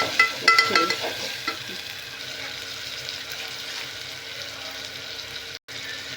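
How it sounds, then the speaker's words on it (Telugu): Onions and tomatoes frying for chicken biryani give a steady close sizzle, with scraping stirs and clinks in the opening seconds before settling into an even crackling hiss and a brief dropout near the end. "బాగా ఫ్రై అవుతా ఉంది. చూడండి, బాగా అయిపోయింది."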